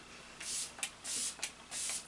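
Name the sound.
spraying Wet n Wild Pick Me Up face spray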